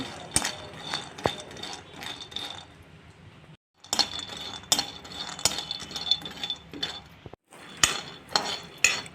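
A cup of almonds is dry-roasted and stirred in a pan for badam laddu, giving close, irregular clinking and scraping with two short pauses.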